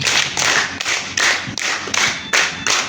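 A group claps in a set pattern of four, done twice, at an Indonesian motivational session on building a wealthy mindset: about eight crisp, evenly spaced hand claps, loud and close, with no talking.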